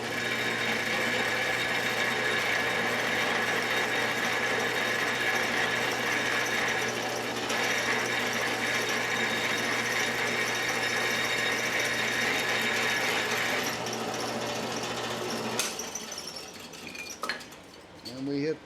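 A drill press bores holes into steel vise jaws, running with a steady loud whine and constant hum that cuts off near the end, followed by brief clatter as the spindle winds down.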